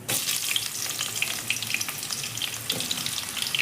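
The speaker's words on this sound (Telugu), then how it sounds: "వేసి బ్రౌన్ కలర్ వచ్చే వరకు వేయించుకోవాలి అలానే దీనిలో కొద్దిగా కరివేపాకు కూడా వేసి ఫ్రై చేసుకున్నానండి" Onions, mustard seeds and cumin fry in hot oil for a fish curry, giving a steady, close crackling sizzle with scattered sharp pops and spatters, alone without any voices.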